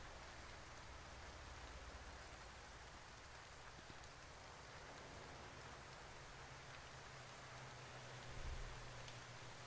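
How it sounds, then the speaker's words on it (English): Steady rain falling in American Truck Simulator, a faint, even hiss of heavy downpour with a low rumble underneath and a slight swell near the end, no voices. "Ooh, it's raining."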